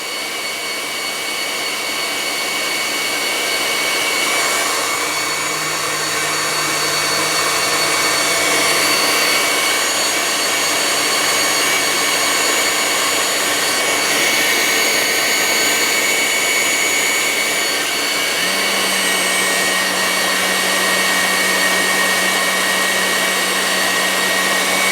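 An electric hand mixer beats egg whites while sugar is added gradually, giving a loud, steady motor whine that runs without a break. Its pitch shifts slightly partway through.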